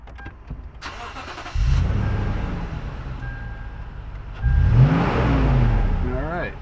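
A Lexus GX460 with an OTT engine tune cranks and catches, runs, then drops away before a second start that rises into a rev, loud and close, with no talk.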